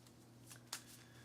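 A deck of cards for the Earthborne Rangers board game is riffled in one short, quiet shuffle, a soft burst of flutter ending in a crisp snap.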